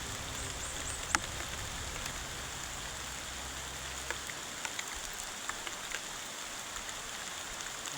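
Steady rain pours down in an even, continuous hiss that fills the whole scene, with a few sharper drips and taps standing out now and then against the wash.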